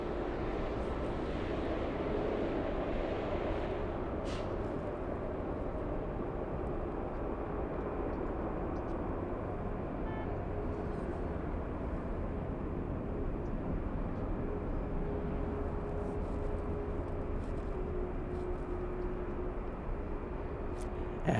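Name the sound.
Delta airliner on runway, flight to JFK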